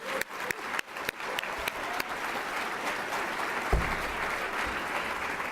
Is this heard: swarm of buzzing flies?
no